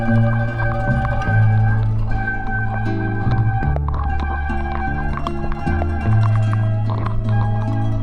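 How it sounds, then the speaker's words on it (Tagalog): Wet bicycle brake pads and rotors squeal in loud, sustained, horn-like tones that shift pitch and overlap continuously throughout, on a rainy ride. "Yung parang busina ng PNR na naririnig nyo, mga brake pad at rotor namin yun nabasa."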